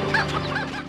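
Hens in the Legend of Kay video game cluck in quick bursts, close and clear over a steady low background hum.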